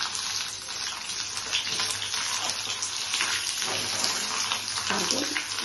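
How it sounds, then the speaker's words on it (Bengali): Salted bhat karela (small bitter gourds) fry in hot oil in a pan, a steady, close, crackling sizzle that holds throughout without any talking. "ভাত করলাগুলোকে ভাজবো"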